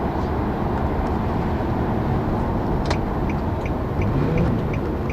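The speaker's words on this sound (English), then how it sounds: "it even rev matched there on that downshift" Infiniti G37 sedan accelerating hard with a rev-matched downshift, a steady, full engine and road roar that holds throughout, heard from inside the cabin with no voices.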